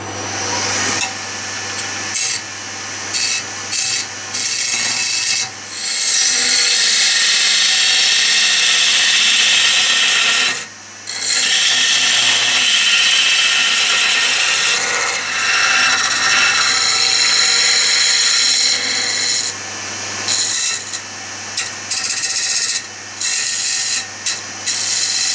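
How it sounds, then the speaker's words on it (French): A power drill bores holes into cherry wood for a turned bird bath, a loud sustained grinding whir broken by several brief pauses and restarts, with no talking. "Je pense que là, je vais faire des trous de 40."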